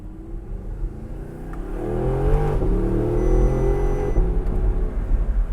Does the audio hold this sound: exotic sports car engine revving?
yes